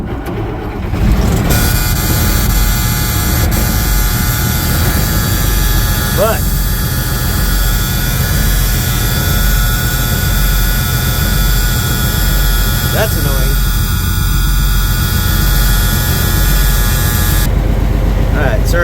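An M35A2 deuce-and-a-half military truck engine running after starting, a loud continuous diesel rumble close by that holds steady throughout, with someone talking over it.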